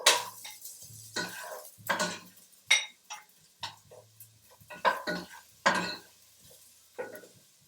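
Onion goes into a pan for PKU pasta and gets stirred, giving a series of scraping, clinking utensil strokes against the pan, spaced and moderately close, with a faint low sizzle between them.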